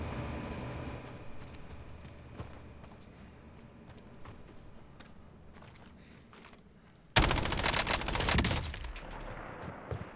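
Call of Duty Warzone gunfire plays on PC: faint scattered shots sit under low game ambience for several seconds, then a loud burst of rapid shooting erupts and tails off near the end.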